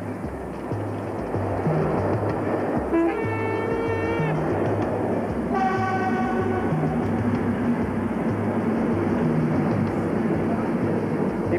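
A train pulls in at a platform of Brussels South station, a steady loud rumble running throughout with tonal brake or horn-like squeals midway, and faint talk in the background.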